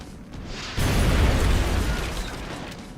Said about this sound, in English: Firing rocket.